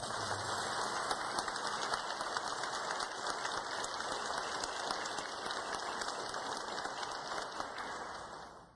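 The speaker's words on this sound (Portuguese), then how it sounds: "Uma salva de palmas." A church congregation claps in sustained, dense applause that stays loud and steady for several seconds, then tapers off at the end.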